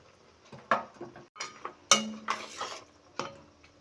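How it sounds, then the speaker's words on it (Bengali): Fried bitter gourd and lentil dumplings go into boiling milk in a pan, heard as a few quiet, close splashes and clinks spaced apart against near silence. "এবারে এর মধ্যে দিয়ে দেব ভেজে রাখা উচ্ছে আর বড়ি"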